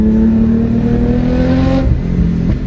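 A BMW E30 330i with exhaust valves revs loudly and up close, with a steady, throaty engine drone and a brief rise in pitch near the end.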